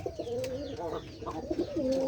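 Pigeons cooing close by, low throaty warbling calls repeating over a faint background murmur.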